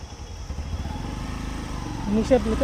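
A Bajaj Platina motorcycle rides along with a steady low engine drone throughout, growing slightly louder near the end, with brief voice-like tones toward the close.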